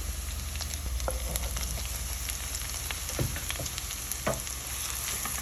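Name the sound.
chili pepper and garlic frying in a pan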